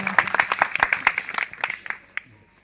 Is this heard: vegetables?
no